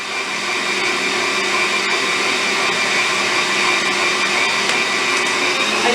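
An electric mixer whips a mixture to soft peaks for chewy coconut macaroons, giving a loud, steady motor whine that runs unbroken throughout.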